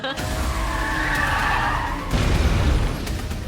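A car skids with a long, loud tire squeal during a movie car chase, followed by a rougher scraping rumble as it ends.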